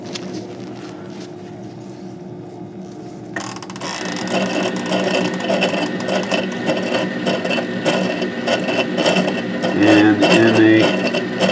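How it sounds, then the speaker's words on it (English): A laboratory rotator mixing antibody specimens switches on partway through, giving a steady mechanical whir with rhythmic ratcheting and gear-like clicking; a voice speaks briefly. "I'm going to place it on a rotator. That rotator will mix"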